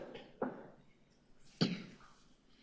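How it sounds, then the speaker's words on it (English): Two separate coughs, faint and somewhat distant, spaced about a second apart against a quiet background, at a public committee meeting. "We can hear you cough."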